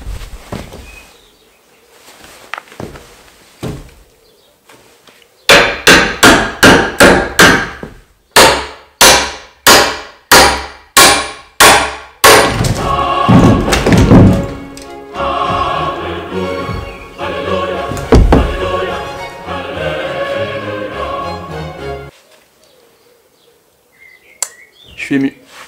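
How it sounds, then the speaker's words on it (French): Final heavy hammer blows knock out a wooden ceiling joist in an attic, then a long crashing clatter as the joist falls and is caught by an electrical cable. Loud and close, with faint talk at the start. "je vous montre les derniers petits coups pour que vous puissiez voir cette magnifique solive tomber et se faire rattraper par le câble électrique"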